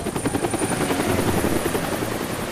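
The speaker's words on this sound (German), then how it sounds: "That's the helicopter chasing my friends." Helicopter from the video game Deadlight, a steady loud rotor drone with rapid chopping pulses, continuous and close throughout.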